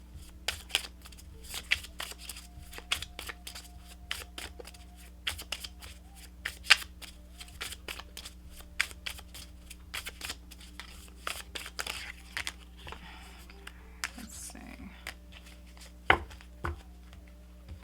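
Tarot cards being shuffled by hand, a long run of quick riffling and sliding card bursts with crisp snaps, close and steady over a faint background hum.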